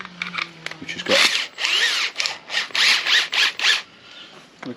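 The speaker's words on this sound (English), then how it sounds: "You screw up the arbor into there, then we'll whack it in the drill" A power drill with a hole saw spins up in several loud bursts with short pauses between, the bit grinding and whining as it cuts into material.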